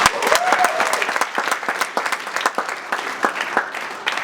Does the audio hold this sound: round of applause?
yes